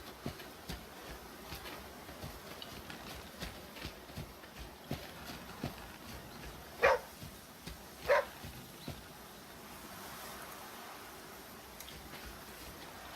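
A dog barks at a boar in the survival video game The Flame in the Flood: two short, quiet barks about a second apart over a faint, steady game ambience.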